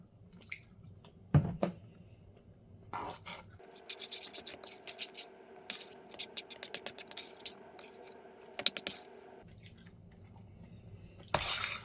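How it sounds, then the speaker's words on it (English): Biscuit dough mixed by hand, quiet wet squishing and sticky tacky pats in an irregular rhythm, close up with faint background noise. "You don't want to mix your dough too much or you will have very tough biscuits"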